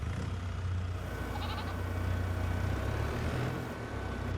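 Goats in the Farming Simulator 22 game bleat faintly over a steady low hum of farm and engine ambience, a short wavering bleat rising briefly mid-clip with no voices.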